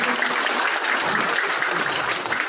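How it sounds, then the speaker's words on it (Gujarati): Warm, dense applause from an audience welcoming a guest at a felicitation ceremony, many hands clapping steadily at close range throughout the short burst. "આપણે જોરદાર તાળીઓથી આ સ્વાગત વધાવીએ"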